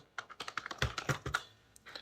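Fingers type on a computer keyboard while filling in an online exam application form, producing a fast, uneven patter of close, sharp key clicks with no voice.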